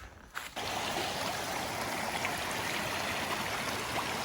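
White Oak Branch, a creek in the Great Smoky Mountains in winter, rushes in a loud, steady broadband wash of flowing water heard up close, after a brief rustle at the start.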